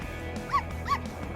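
A dog in an animated story gives two short, high whimpering yips in quick succession, close and fairly quiet over a faint background hum.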